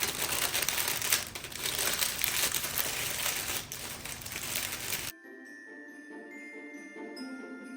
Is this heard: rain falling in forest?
no